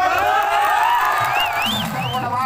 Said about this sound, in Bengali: একটা দর্শক জোরসে কুলকুলি হাততালি হয়ে যাক